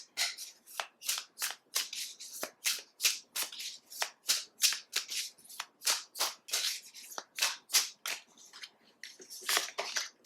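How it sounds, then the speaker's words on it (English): Tarot cards shuffled steadily for about ten seconds, a long regular train of bright, papery riffles and slaps recorded up close, with no voice over them. "now I want to pull a few cards for the connecting energies"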